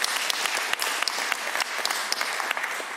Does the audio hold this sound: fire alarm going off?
no